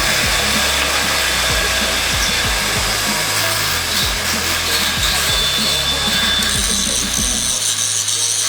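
A power tool fixes 12 mm anchors into a steel beam in a 1981 building under renovation, a loud continuous whining drive broken by repeated thumping strikes, close and without talk.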